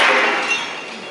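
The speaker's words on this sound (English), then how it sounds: "with the simple shattering of a clay jar" A clay jar shatters in one bright, hissing crash of breaking fragments that fades over about a second, heard alone and close.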